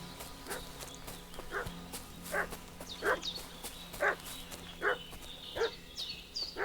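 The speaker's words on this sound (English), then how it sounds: "Dog's barking." A dog barks repeatedly in the video game Kingdom Come Deliverance 2, a steady series of about eight mid-distance barks at a regular rhythm over a quiet outdoor ambience.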